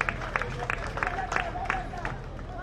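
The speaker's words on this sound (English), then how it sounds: "Let's clap for this powerful gentleman because of the history making event." A crowd claps for the president at a historic community event for the Marampa and Mapoki chiefdom villages, with scattered rhythmic claps under steady crowd chatter and a raised voice.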